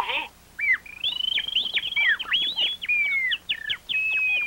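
A person whistles an imitation of birdsong in a Brazilian radio advert, a long run of bright chirps, trills and sliding tweets that follows a short opening voice, steady and fairly close.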